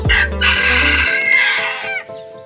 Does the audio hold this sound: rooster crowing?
yes